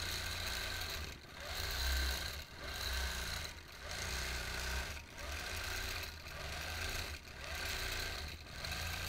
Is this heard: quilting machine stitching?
yes